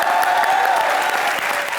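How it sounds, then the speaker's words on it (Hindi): Sustained, loud studio-audience applause on the Comedy Nights Bachao set as Sonakshi Sinha is welcomed, a thick wash of many hands clapping at once that holds strong and only eases slightly at the very end. "सोनाक्षी सिन्हा के लिए जोरदार तालियां हो जाएं।"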